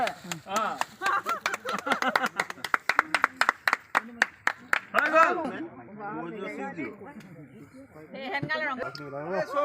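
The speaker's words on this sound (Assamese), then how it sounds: "হাত চাপৰি দিলে ভাল লাগিব ন" Several people clap their hands in a quick, uneven burst of sharp claps that thins out after a few seconds, with voices talking over and after the clapping.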